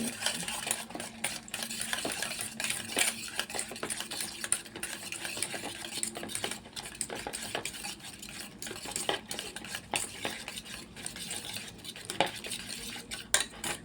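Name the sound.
beating eggs for egg paratha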